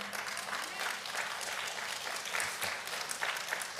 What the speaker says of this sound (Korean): I thought all of you are going to clap